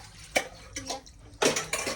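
Metal pots and dishes, brass and copper vessels among them, clatter in a few sharp bursts as they are washed and stacked by hand, with faint dripping water between the clanks.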